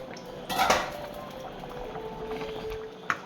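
Kappa and dal curry stirred in a pot, a sharp metallic clink of the spoon against the rim followed by a soft, steady simmering hiss, with another faint knock near the end.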